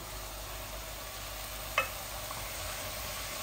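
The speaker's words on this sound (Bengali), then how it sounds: "ভালো করে এগুলাকে ভুনে নেই।" Chicken is stir-fried in a deep pot, producing a soft, even hiss of sizzling with a single brief scrape or clink near the middle.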